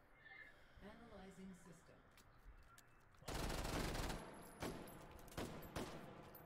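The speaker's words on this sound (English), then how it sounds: "Getting the fast reloads in with the Mac 11, he's really making that thing work" Mac 11 submachine gun in a video game fires a rapid burst, followed by sharp reload clicks and a few more shots, with a commentator talking over the action.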